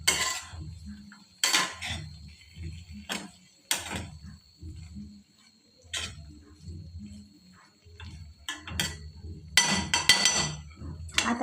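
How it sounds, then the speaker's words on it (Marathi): Metal spoon scraping and knocking against a pan while stirring momo filling, a series of irregular clinks and scrapes with quieter rustling in between, close by. "परत एकदा याला हलवून घ्यायचं आहे."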